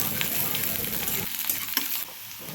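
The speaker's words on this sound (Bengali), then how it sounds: "তারপর আদা আর কাঁচা লঙ্কাটাকে ভালোভাবে ভেজে নিতে হবে।" Chopped ginger and green chillies sizzle in hot oil in a pan, a steady close crackle with light stirring scrapes that eases off near the end.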